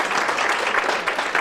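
Steady audience applause fills a school board meeting room, a dense continuous patter of many hands clapping, loud and close with little else audible.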